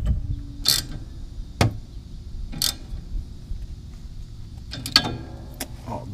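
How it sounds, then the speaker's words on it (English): Metallic clicks and clanks come from fitting a chain tensioner with bolt, spring and gear on a mini Jeep's 150cc engine, a few sharp isolated ticks over a low hum. "Now we're going to come back over here and hook up our chain tensioner again."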